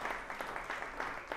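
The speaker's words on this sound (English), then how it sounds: "Can we give them a round of applause one more time?" Audience applause closing a lunchtime talk session, a faint, fairly thin patter of clapping from a small group heard at a distance, steady throughout.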